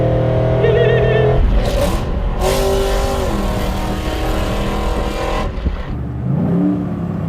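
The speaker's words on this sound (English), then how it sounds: "There it is. a rev match." A supercharged work van engine idles loudly up close, then gets a quick throttle blip for a rev match, its pitch climbing sharply and falling back before settling into a steady running drone.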